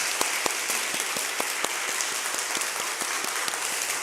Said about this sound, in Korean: 우리 목사님께 한번 감사의 박수 드리겠습니다